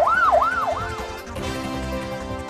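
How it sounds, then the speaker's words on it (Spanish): A mobile unit's emergency siren sounds as a tribute, a loud rising and falling wail cycling about three times before switching to a steadier tone, close and with no talking. "Sus compañeros también la homenajearon con las sirenas de uno de los móviles."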